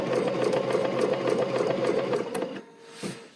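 A BERNINA sewing machine stitches steadily with a fast, even mechanical hum for about two and a half seconds, then stops, leaving quieter handling noises.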